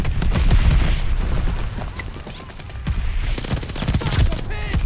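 Dense, continuous automatic gunfire in Call of Duty Vanguard, rapid overlapping shots and booms with a brief lull mid-way, loud and close throughout, likely with game chatter mixed in.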